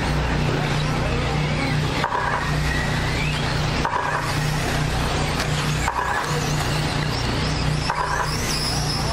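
Several SC10 4x4 radio-controlled short-course race trucks buzzing and whining around an open-class track, electric motors rising and falling in repeated passes under a race announcer's continuous commentary.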